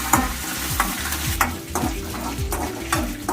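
Mango pickle mixture with curry leaves stirred in a hot pan, a continuous oily sizzle with rhythmic scraping strokes of the spoon against the metal, close up and with no voices.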